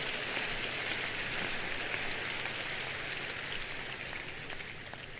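A church congregation applauds and cheers in a dense, steady wash of clapping that carries on throughout, fading slightly toward the end.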